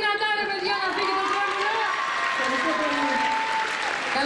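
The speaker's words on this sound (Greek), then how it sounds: "Χειροκροτήστε δυνατά, ρε παιδιά" Loud, steady applause from a club audience packs the space, with a sung or held musical tone running beneath the clapping throughout.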